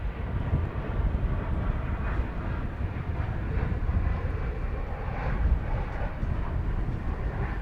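American Airlines plane in heritage livery, flight 2530 to Las Vegas, at DFW Airport, a continuous broadband engine roar, steady and fairly loud throughout, with no voices.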